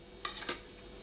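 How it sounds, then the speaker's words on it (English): A blade chops through polymer clay on a hard work surface in two quick, crisp taps, close and clear with no talking. "take your blade and just chop that up like so"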